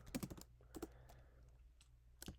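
Quiet typing on a computer keyboard, a few scattered clusters of key clicks with pauses between them, faint and close.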